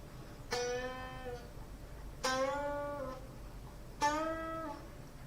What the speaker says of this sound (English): If you do this, your next string bend will probably sound a little bit messed up.